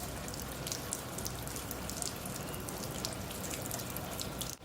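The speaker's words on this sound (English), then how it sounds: "I'm going to tip the board upright and drain all the water out of the engine compartment" Water drains and splashes out of the engine compartment of a JetSurf motorized surfboard tipped upright, a steady close trickling and gushing with scattered drips over the whole stretch.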